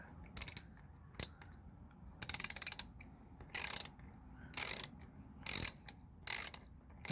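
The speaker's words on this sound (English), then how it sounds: "Now it starts to ratchet." A ratchet clicks in short bursts as screws are tightened on a camera bracket adapter, with quick runs of sharp clicks separated by pauses, close up and alone.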